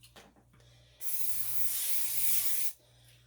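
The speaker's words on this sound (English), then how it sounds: "Okay, spray this with some cooking spray." Cooking spray from an aerosol can hisses onto a pizza sub in a kitchen, one steady close spray lasting under two seconds after a few faint handling sounds.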